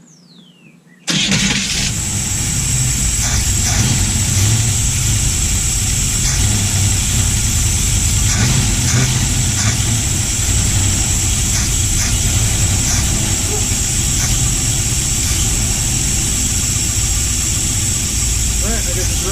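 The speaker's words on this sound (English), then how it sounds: "All right, I guess it's running. Must be the starter making that racket." A Vantini engine cranks and catches, then settles into a loud, steady running roar with a harsh starter racket mixed in, continuing unbroken for many seconds with only occasional low talk.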